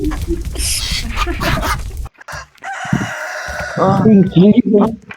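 A rooster crows loudly with hens clucking, synthetic-sounding game audio from Deadly Delivery, following a burst of excited talking and followed by more short chatter.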